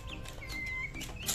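Chickens cluck and chirp close by while eating from a simple cardboard feeder, a few short calls over steady background noise.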